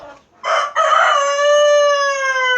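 A rooster crows once, loud and close, a long drawn-out call that rises and then holds steady, after a brief burst of noise at the start.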